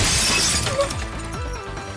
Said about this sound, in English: Another window shatters